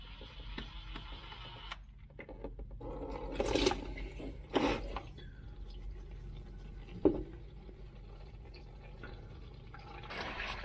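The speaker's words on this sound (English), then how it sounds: "I'm going to start draining the oil" Engine oil drains from the oil pan of an LBZ Duramax, a faint steady liquid trickle with a few louder clanks and splashes near the start, no speech.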